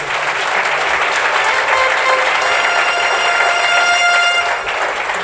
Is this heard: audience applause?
yes